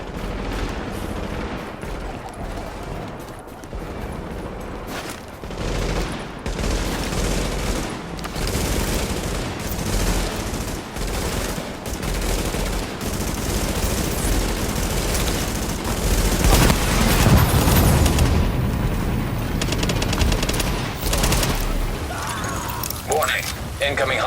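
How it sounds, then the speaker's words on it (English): Sustained gunfire from Tom Clancy's The Division, set in a wintry New York, rattles on in dense bursts with scattered heavier booms, under electronic game voice alerts. "Supplies taking fire."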